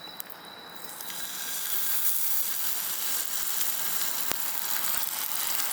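Meat sizzling in a Chinese wok over a camping fire, a steady close hiss that swells in the first seconds and then holds level, with a faint tap partway through.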